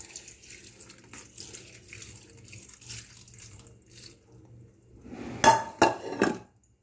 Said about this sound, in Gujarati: ત્યારબાદ આપણે એમાં થોડું ઠંડુ પાણી એડ કરીશું